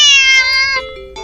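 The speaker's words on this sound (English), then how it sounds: "the cat meows sharply at you" A cat gives a loud, sharp meow, a single drawn-out cry that slides downward and ends in a brief second call, close and alone.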